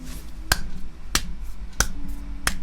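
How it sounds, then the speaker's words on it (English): Four sharp, weak hand claps sound close by, spaced roughly evenly over a couple of seconds against a faint background hum. "That's a bad clap."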